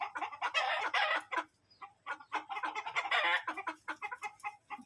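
Rhode Island Red chickens, some mixed with a native hen, clucking and cackling close by in busy repeated bursts, loud and lively with no talking.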